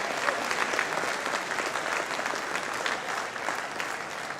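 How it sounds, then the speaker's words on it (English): Conference audience clapping together in a sustained, dense round of applause that holds at an even level from start to finish. "So let's give ourselves a round of applause."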